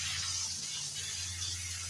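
A spray can steadily spraying paint gives a continuous airy hiss that holds at an even, moderate level throughout, with a faint low hum underneath.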